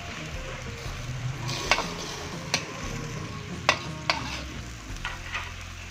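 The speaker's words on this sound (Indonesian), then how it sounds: "Kita aduk kembali dan kita biarkan biar bumbunya meresap." A spoon stirs a simmering pan of corn, meatballs and shrimp, with scraping strokes and several sharp knocks against the pan over a soft steady sizzle.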